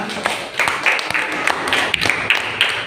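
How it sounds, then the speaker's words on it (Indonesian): A classroom of students applauds a classmate's report during a lesson on cultural and religious tolerance: scattered, uneven hand claps with a dense patter, some individual claps standing out, steady and moderately loud throughout. "Tepuk tangan atas laporannya."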